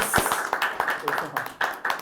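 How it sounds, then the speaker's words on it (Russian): Studio audience at a comedy battle show clapping in a quick, steady rhythm, close and fairly loud, with voices talking underneath. "Аплодисменты."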